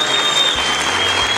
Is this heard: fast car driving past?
no